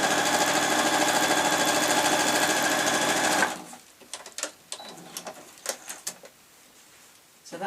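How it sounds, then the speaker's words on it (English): A sewing machine runs a long tacking stitch across fabric in one loud, steady burst of about three seconds, then stops, leaving faint handling clicks and rustles. "I'm just going to put that tacking stitch again straight across the top, purely to hold the fabric in place"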